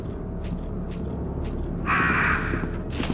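Crows in Resident Evil 2 let out a loud cluster of harsh caws over a steady low rumble, with faint rhythmic footsteps before the calls and another short caw near the end.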